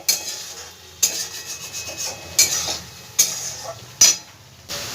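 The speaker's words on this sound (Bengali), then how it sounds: "সব মশলাগুলো খুব ভালো করে আমি ভেজে নেব, মশলা থেকে যতক্ষণ না তেলটা ছেড়ে দিচ্ছে" Spice paste for chana dal frying in oil, with a utensil scraping and stirring through it; steady soft sizzle broken by about six sharp, close scrapes at irregular intervals, no voices.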